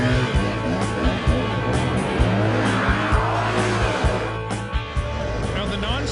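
Studded snowmobile weaving around cones on a slalom course on snow, its engine droning steadily and loudly with rhythmic throttle pulses as it turns, over a wash of track noise and spray, alongside talk.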